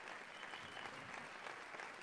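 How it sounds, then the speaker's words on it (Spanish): An audience applauds at a corporate award ceremony in Uruguay, a brief, even burst of steady clapping from many hands, heard faintly and without interruption. "Un gran aplauso"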